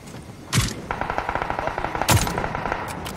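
Rapid automatic gunfire in the PUBG battle royale game: two sharp loud shots followed by a steady stream of quick, evenly spaced bursts, with no talk.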